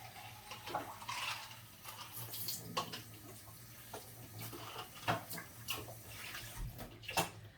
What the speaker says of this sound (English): I'm just rinsing out the cup.